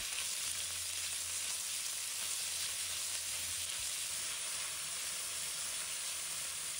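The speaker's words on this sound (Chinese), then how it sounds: "再把肉放入锅中，把它炒到表面变白" Meat stir-frying in a hot wok with garlic, a dense, loud and continuous sizzle and hiss filling the whole stretch, with no talking.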